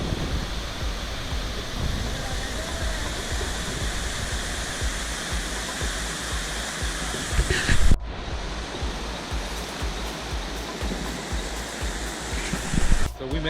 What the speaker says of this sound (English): That big waterfall.